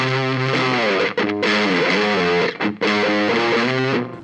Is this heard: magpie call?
no